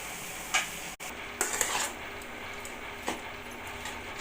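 A dill and potato stir-fry is stirred in a pan, giving a few scraping, clinking utensil strokes against the pan at moments, with a faint steady sizzle underneath and no talk.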